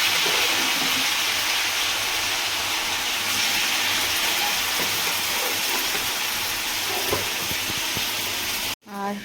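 Marinated meat cooking in a pot for biryani, a steady broad sizzling hiss that runs loud and continuous until it cuts off near the end, with faint kitchen clatter underneath.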